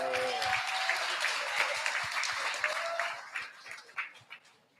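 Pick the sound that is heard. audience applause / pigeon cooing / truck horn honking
audience applause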